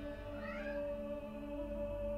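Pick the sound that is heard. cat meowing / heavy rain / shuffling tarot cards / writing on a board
cat meowing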